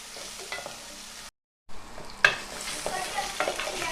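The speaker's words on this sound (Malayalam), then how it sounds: "ഇഞ്ചിയും വെളുത്തുള്ളിയുടെ ഒന്ന് വാടുന്നോളം വരെ ഒന്ന് വഴറ്റിയെടുക്കുക" Sliced ginger and garlic sautéing in a pan for Kerala-style pork varattu, with a soft steady sizzle, scraping stirs and a brief silent gap before a sharper stirring clatter resumes.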